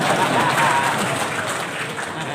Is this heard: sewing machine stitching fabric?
no